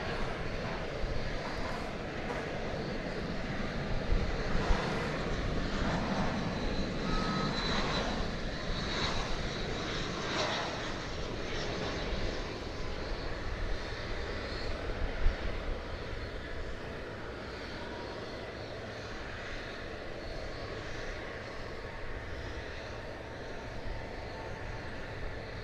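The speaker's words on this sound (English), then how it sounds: "That was American Flight 797 coming in from Madison, Wisconsin." An American Airlines airliner, flight 797 from Madison, Wisconsin, lands at DFW Airport with a steady jet roar that holds for about twenty-five seconds, loudest early on and easing slightly toward the end, with no speech over it.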